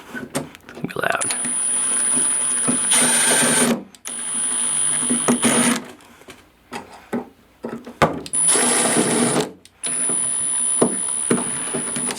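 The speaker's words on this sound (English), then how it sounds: "It's the wrong type of screwdriver for these screws" Screws are driven with a screwdriver poorly suited to them, in several loud whirring bursts of a few seconds each, separated by short gaps and scattered knocks.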